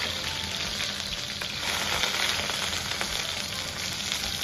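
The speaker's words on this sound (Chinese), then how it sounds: "葱姜下锅" Scallion and ginger hitting hot salad oil and lard with Sichuan peppercorn and star anise in a wok, a steady, close, bright sizzle and crackle that holds throughout with no talk.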